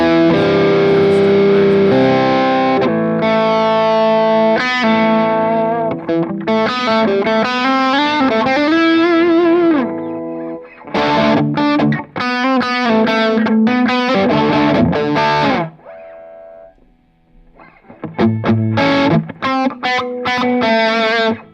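An electric guitar plays chords and melodic runs through a Gecko Pedals overdrive pedal, gritty, sustained notes ringing out with brief pauses between phrases.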